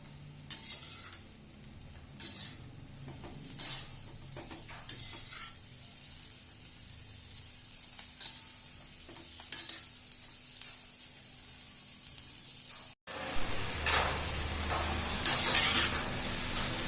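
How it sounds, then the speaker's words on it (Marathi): Val papdi vegetable is stir-fried with spices in a pan over high flame, a continuous soft sizzle broken by intermittent scraping and stirring strokes, growing louder and hissier near the end, with no speech. "या पद्धतीने भाजी परतून घ्यायची चांगली"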